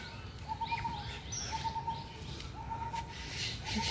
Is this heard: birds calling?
yes